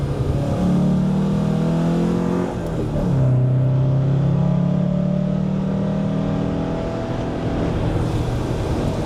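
A car engine roars loudly nearby on the Snetterton race track, its pitch climbing, dropping abruptly as it shifts down into second gear, then rising again under sustained revving.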